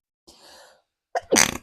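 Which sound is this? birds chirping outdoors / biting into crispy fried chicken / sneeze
sneeze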